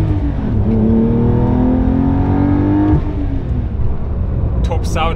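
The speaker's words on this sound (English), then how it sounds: "You really get quite a heavy induction sound." Porsche 992 Carrera T with a manual gearbox revving hard from inside the cabin, its heavy induction roar climbing steadily in pitch before easing off, loud and constant, with a short clatter at the end.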